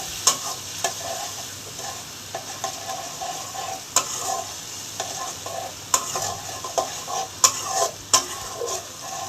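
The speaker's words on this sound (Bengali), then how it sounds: "এগুলো দিয়ে খুব ভালো করে মশলাটাকে সুন্দর করে কষাতে হবে।" Masala spice paste with turmeric and salt fries in a pan as it is stirred, a steady sizzle under repeated scraping and clinking strokes of a spoon against the pan, close and even.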